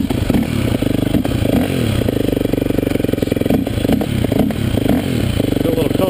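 Yamaha YZ250F dirt bike heard from a helmet-mounted camera on a short spin around the block, its engine buzzing steadily and close with repeated revs and throttle changes throughout, wind rushing over the microphone.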